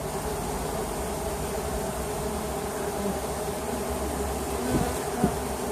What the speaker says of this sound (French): les abeilles étaient un peu perturbées à côté